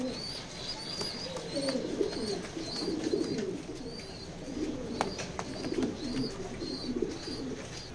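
Large checker pigeons, a male and female pair, coo softly in low repeated rolling calls, with faint chirps and rustling nearby and no talk.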